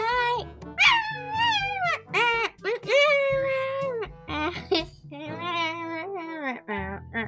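A young girl imitates a cat, producing a run of high, wavering meows and mewling cries in quick succession, loud and close, with varied pitch glides and short pauses between calls.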